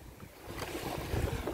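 Rough open sea slaps and washes around a small boat, with wind buffeting the microphone and the churn building louder toward the end; no voices.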